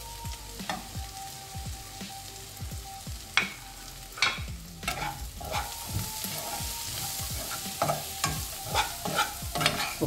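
Half-cooked onions with chilli, turmeric, coriander and cumin powders frying in a pan, a steady sizzle punctuated by frequent rhythmic spatula scrapes and knocks against the pan, close by, no one speaking.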